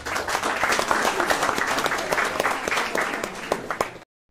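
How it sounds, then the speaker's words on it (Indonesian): Applause from a gathering at a talk on elderly health fills the whole stretch, dense and loud with many hands clapping, then cuts off abruptly at the end. "Tepuk tangan virtual dulu dong."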